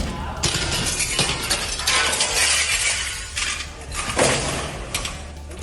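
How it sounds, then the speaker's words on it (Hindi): Glass panes in the gate of a principal's office at a college shatter and crash during a student protest, with sharp bright breaking noises and rattling debris spread across a loud, busy stretch. "एनएसयूआई के छात्र नेता अमन पटवारी ने पहले प्रिंसिपल ऑफिस के गेट का कांच तोड़ा"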